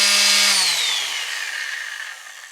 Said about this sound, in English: typical noise level for a sander